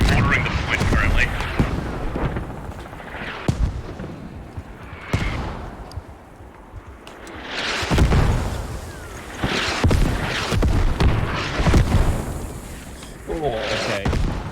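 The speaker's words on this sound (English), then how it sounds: "They're mortaring the point currently" Mortar fire in the video game Squad, heavy booms and bursts landing at intervals, some close and loud, under people talking.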